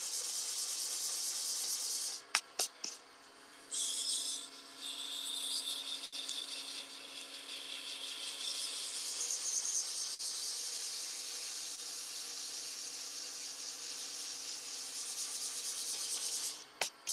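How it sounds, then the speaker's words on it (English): A slimline pen blank spins on a wood lathe while being sanded, giving a steady close rubbing hiss that runs almost the whole time, with a few sharp clicks and brief gaps near the start and end. "When you are sanding, if you're a pen turner"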